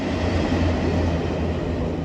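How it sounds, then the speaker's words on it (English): The tail end of a train crosses a viaduct bridge at Chester-le-Street, a loud, steady rumble and roar with no distinct breaks over two seconds. "Just caught the tail end of that train."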